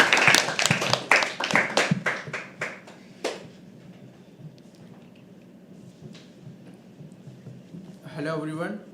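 An open mic poetry audience claps for a performer coming on stage: a burst of close, scattered hand claps that thins out over a few seconds, then quiet room tone before a voice starts speaking.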